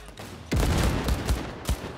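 Assault rifle gunfire in Cyberpunk 2077, a loud rapid volley of shots breaking out after a short lull, followed by a few separate sharp reports, close and punchy.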